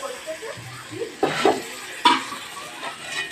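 Taro stolon (kochur loti) curry being stirred in a pan, soft scraping and shuffling strokes with a couple of louder clinks against the pan, close and quiet, with a faint voice in the background.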